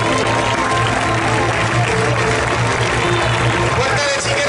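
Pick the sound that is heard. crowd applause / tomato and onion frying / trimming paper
crowd applause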